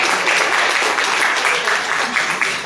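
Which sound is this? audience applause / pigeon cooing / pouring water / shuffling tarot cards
audience applause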